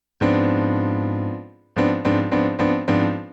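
A piano chord from Bach's Prelude in C, measure 23, is struck and left to ring until it fades, then the same chord is struck again four times in quick succession.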